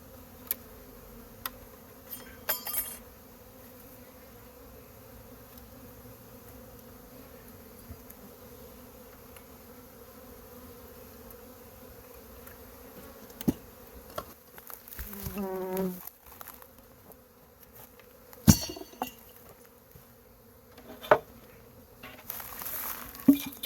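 Honey bees buzz faintly around hives while a small nuc colony is moved into a ten-frame deep, a low steady hum with occasional louder passes and knocks as frames and boxes are handled.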